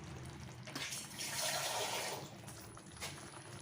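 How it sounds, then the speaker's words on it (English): Water is poured into a coconut curry in a pot, a soft continuous splashing and trickling that swells in the middle and then tapers off, fairly quiet and with no talking. "don't forget to add water"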